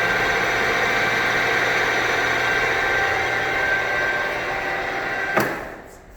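A new-old-stock Osama Sr. 17"/24" x 40" geared head gap bed lathe, model MO-1740G, runs at high speed with a steady mechanical hum and whine. A sharp click comes near the end as the sound starts to drop away.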